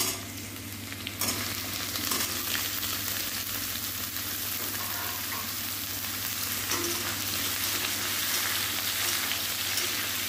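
Potatoes and pumpkin fry in a pan, giving a continuous close hiss and sizzle with occasional stirring scrapes and no voices.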